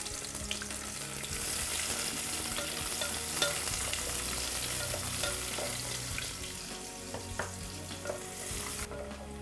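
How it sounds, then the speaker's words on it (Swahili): Onions frying in hot oil in a pan, a steady dense sizzle with crackles and the scrape of stirring running throughout, close and with no voices. "Tutasubiri mafuta yetu yachemke ili tuweze kuweka vitunguu. Weka vitunguu vyako kiasi."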